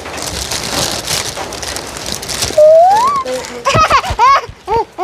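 Steady rain falls, a dense, even hiss that fills the first half before fading, after which a child's high, sing-song voice takes over in several short bursts.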